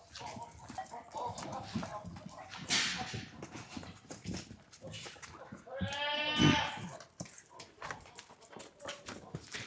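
Full-blood African Boer goats on a goat farm in Maharashtra, with one clear bleat standing out in the middle amid handling noise, shuffling and people talking nearby.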